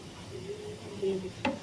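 A soft steady sizzle of garlic and onion frying in hot oil, with a brief stirring scrape near the end; no voices.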